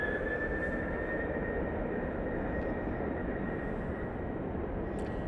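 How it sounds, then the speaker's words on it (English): An Airbus A380 airliner in .com livery at Manchester Airport, its engines giving a steady, broad, distant roar that holds evenly throughout, with a faint high whine running through it. "This is Airbus A380. It's in the .com livery, which, let's be honest, is a better looking plane."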